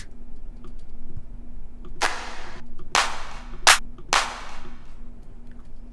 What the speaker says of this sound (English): Let's use this clap for now.